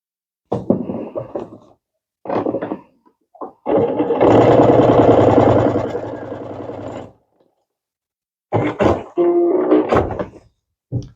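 A home sewing machine stitches pieces of a Christmas pot holder quilt together in a loud, steady whirring burst of about three seconds, set between short bursts of handling noise and brief pauses.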